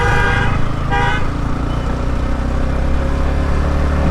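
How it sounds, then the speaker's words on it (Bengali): A Toyota Noah's horn is held down continuously on a road, a loud steady tonal blare lasting throughout, close by over traffic and engine noise. "আর হর্ন টিপেই ধরে রাখছে"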